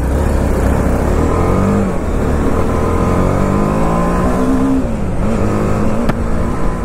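A BMW G310RR motorcycle engine revs in traffic, a loud, continuous drone whose pitch rises and falls with repeated throttle pulls, close and alone without talk.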